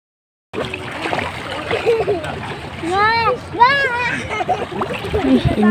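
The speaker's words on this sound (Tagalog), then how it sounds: "maganda po yung dagat dito ngayon" Sea water splashes near the shore at a beach during morning exercise, a wet, irregular wash heard close up beneath voices talking, including what sounds like a child, for most of the clip.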